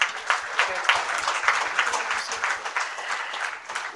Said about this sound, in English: with a round of applause, let's invite our Honorable Finance Minister, Government of Kerala, Sri K. Mani sir.